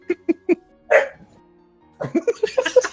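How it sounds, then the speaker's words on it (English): A dog barks in short, sharp bursts: three quick barks, a louder one, then a rapid run of barks close by after a brief pause. "Dog bark."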